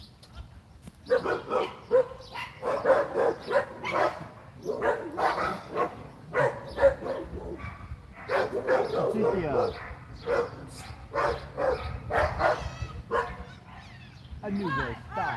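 A pet dog barks and yips repeatedly through the clip, sharp bursts mixed with whimpers, close by and loud, while a person talks over it.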